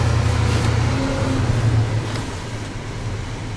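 A 1989 Vanguard Class A motorhome drives along on a winter ride. A steady low engine drone and road rumble sit close and fairly loud, easing slightly in the second half, with no talk.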